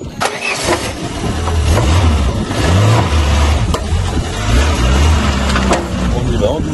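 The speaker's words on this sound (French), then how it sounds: "maintenant on charge la petite 205 sur le plateau" A Peugeot 205 Trophy's engine runs loudly and steadily as the car is driven up onto a flatbed trailer, with low rumbling revs throughout and voices talking over it.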